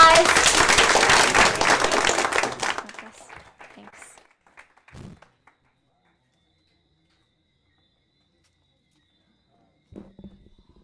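An audience claps loudly after a shark expert's presentation, a dense burst of applause lasting a couple of seconds before tapering into scattered claps, then near silence with a faint stray sound at the end.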